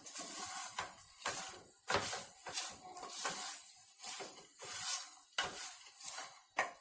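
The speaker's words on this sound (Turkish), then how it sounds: "Makarnamızı da şöyle karıştıralım." Homemade pasta in minced-meat sauce is stirred in a pan, giving soft scraping strokes in a steady rhythm of roughly one every second, quiet and close, with a faint sizzle underneath.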